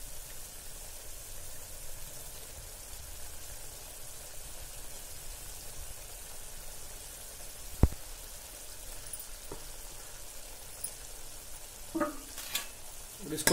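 Steady sizzling of boiled potatoes frying in gravy in a pan, with a few soft clinks and scrapes of stirring near the end.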